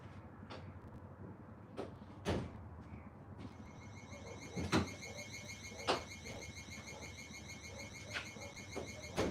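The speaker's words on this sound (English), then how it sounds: "Excuse the alarm." An intruder alarm sounds indoors as someone walks past its camera, a steady high electronic tone holding through most of the stretch with repeated sharp clicks and knocks, fairly faint and with no talk.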